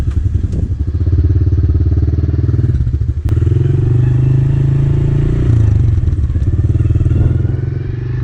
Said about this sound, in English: after letting it idle, just blipping the throttle for a minute or two